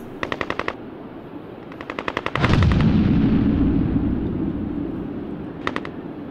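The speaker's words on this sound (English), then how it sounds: "Soldiers found themselves ducking and covering from incoming gunshots." Short bursts of rapid automatic gunfire in the World War I trenches, then a heavy blast with a long rumbling decay, and another quick burst at the end.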